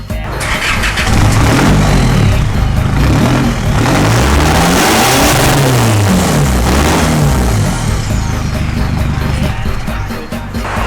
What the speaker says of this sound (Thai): นี่ครับท่อคันนี้เป็นท่อไอเสีย